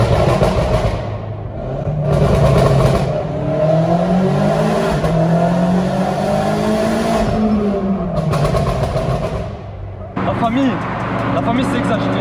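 A BMW M8 with a straight-pipe exhaust, tuned past 800 horsepower, roars close up, its revs rising and falling in long, loud sweeps with a brief dip, while voices talk over it.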